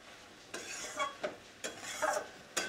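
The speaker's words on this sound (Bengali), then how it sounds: "তো এবার এটাকে নেড়ে আমি ঢাকা দিয়ে আঁচ লো করে রেখে দেব।" A spoon stirs banana flower curry with prawns and ghee in a pan, giving a few sharp scraping strokes at a steady pace, close and moderately quiet, followed by a final knock as the pan is covered.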